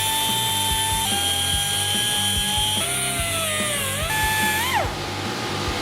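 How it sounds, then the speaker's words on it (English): Small drill with a grinding head cutting down rivets on a motorcycle chain still on the sprocket, a steady high-pitched whine that shifts pitch as it bites into the metal, close and continuous. "if you have a drill and a little grinding head, you can get through these still pretty fast"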